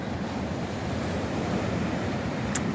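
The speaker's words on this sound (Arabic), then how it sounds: "سمعوا الصوت ديال البحر، الصوت ديال الامواج" Sea waves washing onto the shore on a cold, bright morning, a continuous close roar of surf mixed with gusting wind buffeting the microphone, no voices.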